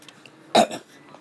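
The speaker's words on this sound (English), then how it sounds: "I swallowed that damn sunflower seed. I had to cough that bitch up." A single sharp cough from someone clearing a swallowed sunflower seed, short and close, with a faint second hack after it in quiet surroundings.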